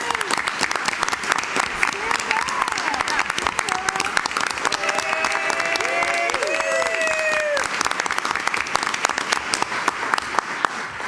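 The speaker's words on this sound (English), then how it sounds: "let's give a round of applause for Bailey" Sustained applause from a school board meeting audience honoring water polo player Bailey Weber, dense steady clapping for several seconds with faint tonal sounds and murmurs mixed in.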